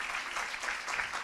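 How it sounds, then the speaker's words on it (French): Audience applause fills a French-language fundraising seminar, a steady wash of many hands clapping close and fairly loud throughout. "Et j'invite donc Asha Curran sous vos applaudissements"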